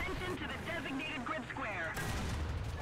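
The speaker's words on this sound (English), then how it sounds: "I'll shoot at him." A tank cannon fires in the War Thunder tank battle game, a heavy low boom rolling out near the end over steady rumbling battle noise while someone talks throughout.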